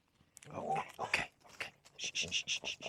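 A dog, called a good boy and puppy, whimpers in a series of short, high, evenly spaced whines, with mouth and chewing noises and soft human talk mixed in before the whines.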